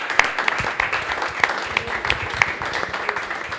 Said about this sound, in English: Can you give yourselves all a round of applause?